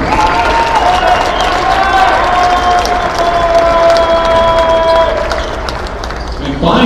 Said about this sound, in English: One more round of applause for Zaron Richmond.